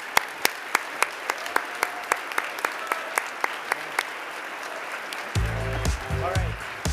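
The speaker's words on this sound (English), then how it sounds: "Please join me in a warm round of applause for these amazing scientists." Applause at a colorectal cancer research foundation gala comes through as evenly spaced, crisp claps for about five seconds, followed by a burst of louder music-like sound.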